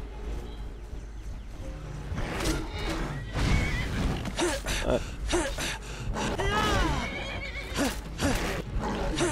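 A horse in the fantasy game Skyrim whinnies and neighs several times in loud, rising bursts, mixed with hoof clops, grunts and fighting sounds.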